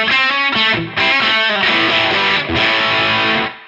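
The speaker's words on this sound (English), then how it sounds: "So the ML1X delivered exactly what I wanted it to deliver. It's got those big bridge humbucker rock tones." A Chapman ML1X electric guitar on its bridge humbucker plays a loud distorted rock riff. Chugging palm-muted chords and ringing sustained chords come close-up in a quick burst, with no talking.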